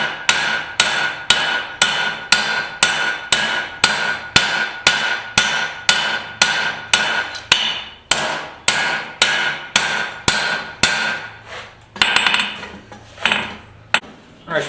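Hot steel for a garden cultivator hammered flat on an anvil, a steady run of loud, ringing close blows at a regular rhythm, with a brief pause and a few scattered strikes toward the end.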